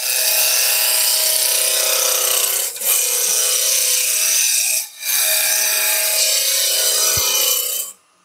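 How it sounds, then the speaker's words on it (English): Wood lathe spinning a seed pot maker blank at higher speed, a steady close whirring rub that runs continuously, briefly dipping twice before stopping near the end. "Now I can turn the lathe speed back up again."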